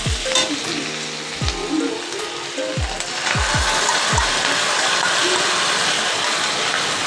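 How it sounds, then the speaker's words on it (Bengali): Chilli soybean chunks frying in a pan with sauce, a loud continuous sizzle with several stirring scrapes early on that settles into a steady crackle. "সসটা দিয়ে ভালো করে একটু কষিয়ে নেব।"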